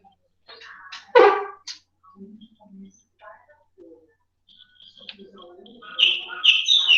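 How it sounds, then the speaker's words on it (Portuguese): A small bird sings in short chirps and trills near a home with a neighbour and a small dog, the bright calls clustering near the end, with people talking around and between the song. "Perguntou do passarinho, ele começou a cantar."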